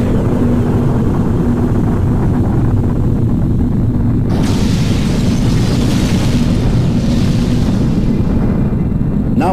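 Hydrogen bomb explosion sound effect: a loud continuous low rumbling roar that swells into a broader blast around the middle and keeps rolling to the end.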